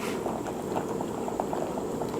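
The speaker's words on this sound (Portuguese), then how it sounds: "Tem água fervente e mergulho" Water at a rolling boil in a cooking pot for ramen noodles, a steady close bubbling and patter with no voices.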